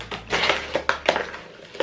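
A wrapped chocolate rice puff snack being opened close by, with crinkly crackling plastic wrapper bursts and a few sharp tearing rustles over under two seconds.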